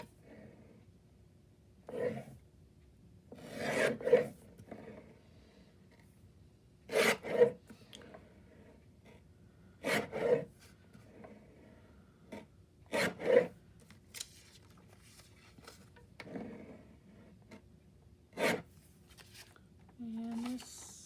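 Scissors snip through paper pieces in a quiet room: a series of close, crisp cuts come every couple of seconds, separated by near silence.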